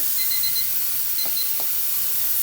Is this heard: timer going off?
yes